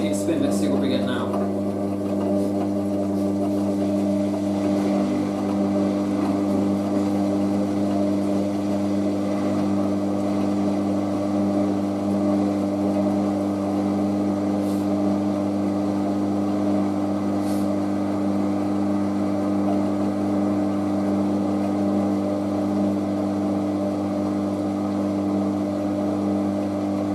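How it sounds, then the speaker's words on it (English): A Hotpoint Aquarius WM63 washing machine runs an intermediate spin, its steady motor hum holding loud and even with strong sustained tones throughout, a few faint clicks and thumps scattered over the drone. "Okay, second intermediate spin."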